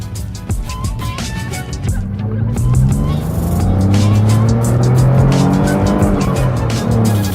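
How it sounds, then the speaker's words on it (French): A car brakes hard at moderate speed with a GoPro on a magnetic mount, its tires squealing in long rising and falling tones over the road and engine roar for several seconds, no talk. "Là on va taper les freins un petit peu."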